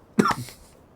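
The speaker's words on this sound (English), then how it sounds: "Got a bit of a cough." A single short cough, close and fairly loud, during a WWII U-boat simulation game session, then quiet.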